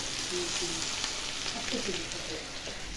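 Potatoes sizzle and crackle steadily in a hot pan, a close, continuous frying hiss with faint background voices.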